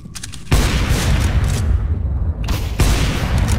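Loud, dense bursts of gunfire from the video game CS:GO, several sustained volleys broken by brief gaps, heard up close with no talk over them.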